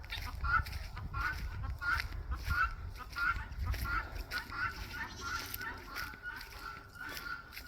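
Guinea fowl call outdoors in the woods with a rhythmic string of repeated harsh cries at a moderate distance, over low rumbling background noise.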